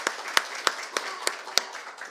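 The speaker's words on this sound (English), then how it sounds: "Thank you so much. Big round of applause." A handful of sharp, scattered hand claps ring out at a ribbon-cutting gathering for a team, sparse and uneven rather than a full ovation, fading after about six distinct claps.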